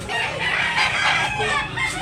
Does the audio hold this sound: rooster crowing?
yes